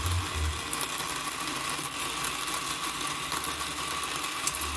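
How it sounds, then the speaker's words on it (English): A Weber Workshops Key coffee grinder grinds beans at lower RPM, giving a continuous whirring, crackling grind at close range with a brief dip where the motor nearly stalls. "So it's grinding, no problem, except for that mini stall."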